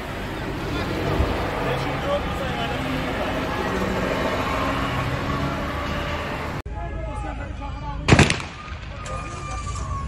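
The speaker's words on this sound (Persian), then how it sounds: "دارن تیراندازی میکنن برای ملت، برای مردم دارن تیراندازی میکنن" A loud, sharp burst of gunfire cracks out over a dense wash of crowd noise and shouting outside a prison at night, followed by a few fainter distant pops.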